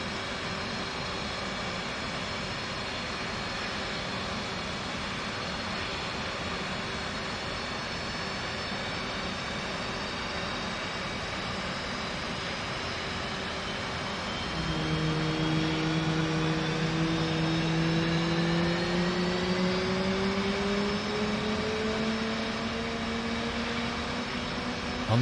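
An FA-18 Lot 20 jet engine spooling up during a start in the DCS flight simulator: a steady turbine whine and hum, then a louder shift as rising tones climb and the engine sound grows fuller.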